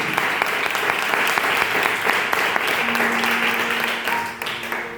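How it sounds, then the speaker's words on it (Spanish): A church congregation claps together during a sermon, a loud, dense burst of applause with a few sharper hand strikes, gradually thinning toward the end as a sustained tone creeps in beneath. "Vamos a dar un aplauso a aquel que vive y reina por los siglos de los siglos."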